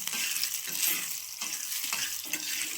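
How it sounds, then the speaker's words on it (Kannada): Garlic frying in a pan with dried chilies and onion, a steady bright sizzle close to the microphone broken by a few scraping stirs, with no voices. "ಬೆಳ್ಳುಳ್ಳಿ ಸ್ವಲ್ಪ ಚೆನ್ನಾಗಿ ಫ್ರೈ ಆದಮೇಲೆ ಒಣಮೆಣಸಿನ್ಕಾಯಿ ಈರುಳ್ಳಿ ಹಾಕ್ಕೊಳ್ಳೋಣ."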